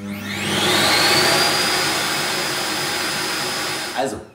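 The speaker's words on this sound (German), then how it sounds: "es wird dort abgesaugt, sehr laut wie ein Staubsauger, aber dauert nur 5, höchstens 10 Sekunden" An iRobot Roomba J7+ base station loudly suctioning out the robot's dust bin, a roaring vacuum whine that spins up, holds steady for several seconds, then cuts off abruptly near the end.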